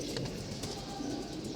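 Pigeons, a pair of red-eyed, long-necked birds, cooing in low continuous murmurs, faint and close in a steady background.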